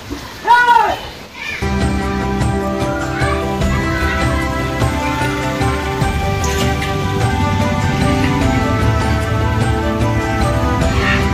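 Water splashes and pours steadily down into an old village well, a continuous loud rushing that fills the scene after a brief opening burst, with children's voices faintly mixed in.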